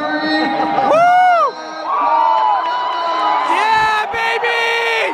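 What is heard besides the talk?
hometown crowd cheering at an MMA fight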